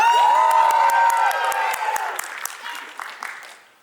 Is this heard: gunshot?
no